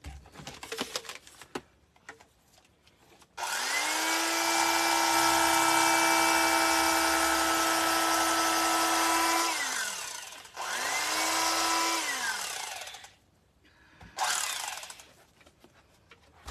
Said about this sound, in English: So we're going to trim this top piece down.